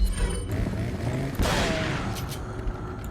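A shotgun blast from the video game Resident Evil 4 booms once near the middle, a sharp loud burst over steady game background noise.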